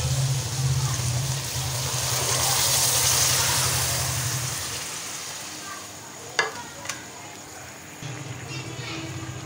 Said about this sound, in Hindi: ये पानी समेत हम इसके अंदर डाल देते हैं